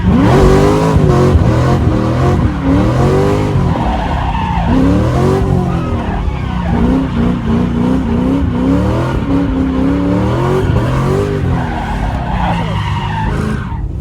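A Jeep driven hard, its tires squealing and skidding in long wavering screeches over a revving engine, loud and close for the whole stretch, with no voices breaking through.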